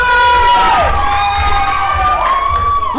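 A wrestling event crowd cheers and shouts loudly and continuously, with whoops rising over the roar while a voice speaks over it.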